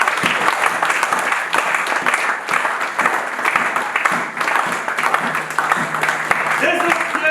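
A church congregation applauds and cheers for the Lord during a French-language sermon, steady dense clapping sustained throughout with crowd voices mixed in.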